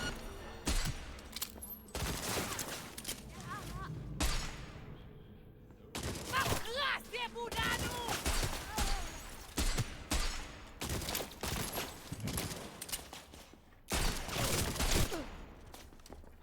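Rapid bursts of gunfire from a shootout in Cyberpunk 2077 come in repeated loud volleys with brief pauses between them, and a voice talks in the background.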